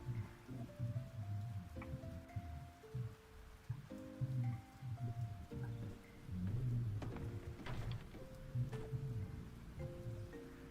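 Steady rainfall in the farming game Fields of Mistria, a soft, even patter sitting quietly under a gentle plucked melody of game music that runs throughout.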